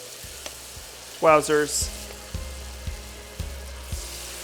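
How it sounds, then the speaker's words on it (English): Fries for nacho fries drop into hot frying oil with a sudden loud sizzling burst that settles into steady bubbling and crackling. A brief exclamation is heard over it. "And now straight into the oil. Ooh, listen to that sizzle."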